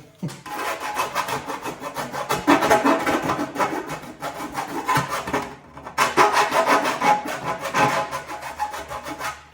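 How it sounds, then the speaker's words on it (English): Straight tin snips cut through sheet metal for a car body in rapid, rhythmic crunching snips, loud and close, with a short pause midway before the cutting resumes. "But I cut better with straight snips."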